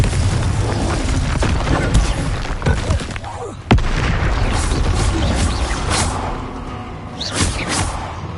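Confringo blasting-spell explosions and other spell casts from Hogwarts Legacy, a string of booms and whooshes with one sharp blast near the middle, loud and close amid game combat noise.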